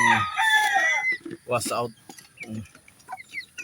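Pet chickens cluck and give short calls near a voice speaking Filipino, with bursts of fowl sounds between and under the talk.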